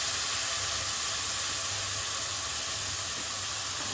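Tomatoes with rock salt cook among frying onions in a pan for fish curry, producing a constant soft hiss and sizzle at close range with no clear breaks.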